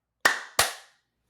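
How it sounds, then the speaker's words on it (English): Two sharp hand claps from podcast hosts, close and loud, spaced about a third of a second apart with quick decays and silence after. "let's do a clap to get started"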